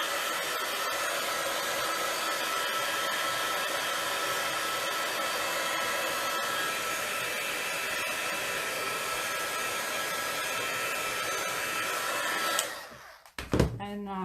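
A hair dryer or heat tool blows steadily and loudly over paint on a craft sheet for about twelve seconds, then cuts off with a short clatter at the end.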